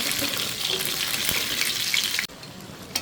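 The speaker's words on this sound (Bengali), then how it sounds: "আরেকটা প্যান নিয়ে আমি কোফতাগুলো ভেজে নিই" Chicken koftas frying in a pan, a dense steady sizzle for most of the time, which then drops abruptly to a quieter crackle, with a faint clink near the end.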